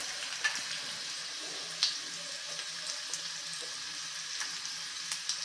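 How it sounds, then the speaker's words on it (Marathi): Garlic sautéing in oil for a bottle gourd dish, a faint, steady low sizzle with a few small sharp ticks and pops, quiet and without talk. "थोडासा गुलाबीच्या रंगावरती आपल्याला हा लसूण परतून घ्यायचा आहे"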